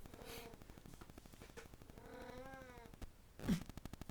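A cat sitting on a stoop gives a drawn-out meow with a bending pitch, fairly clear over a busy background of game noise and rapid clicks, followed by a short sharper burst.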